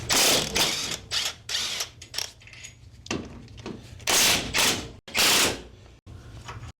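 Ratchet wrench working the bolts that hold a Jeep steering box to the frame, sharp bursts of rapid clicking in several separate runs with short pauses, close and loud, no talking.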